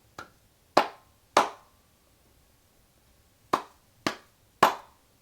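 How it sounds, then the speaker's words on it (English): Six sharp hand claps, close and dry, in two groups of three with a pause between, alone with no talk. "So all I could do is give you the salute and the NPC clap."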